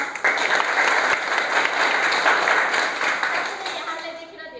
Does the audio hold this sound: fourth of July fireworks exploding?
no